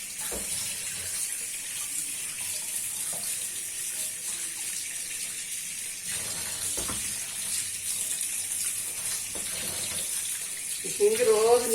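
Tap water running steadily into a kitchen sink during washing, a constant close hiss and splash with a louder burst near the end; a person talks faintly underneath.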